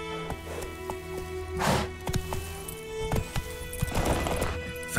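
Hooves clip-clop at a trot in The Witcher 3, with irregular thuds and occasional louder hoof impacts close by over a faint ambient game backdrop. The horse may snort once.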